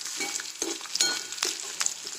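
Green chilies roast in a kadhai with a light dry sizzle, broken by a few sharp spatula scrapes and taps against the pan; no one speaks.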